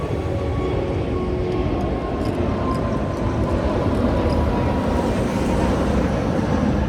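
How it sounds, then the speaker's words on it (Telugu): An Emirates airliner heard from nearby as a steady, loud, broadband engine rumble and roar with no break, no one speaking over it. "నా బ్యాక్ సైడ్ అవుతుంది ఫ్లైట్"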